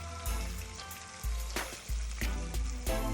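Freshly caught grunt fish deep frying in oil, a quiet continuous bubbling sizzle with repeated low thumps and crackles at roughly regular intervals.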